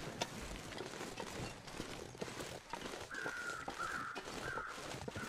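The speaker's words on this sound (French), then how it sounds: "J'entends des corbeaux" Crows caw in The Long Dark survival video game as a few faint distant calls in the latter half, over a steady hiss of wind and ambient noise.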